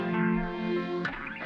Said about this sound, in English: And lastly, I just added a little reverb.